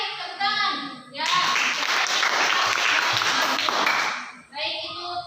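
Classroom applause from a group of students in a school lesson, a dense burst of clapping lasting about three seconds, framed by children's voices chattering before and after.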